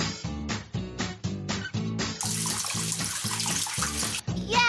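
Bouncy Sid the Science Kid game music repeats a short pattern; after a couple of seconds a steady rush of sprinkling watering joins it, then cuts off near the end.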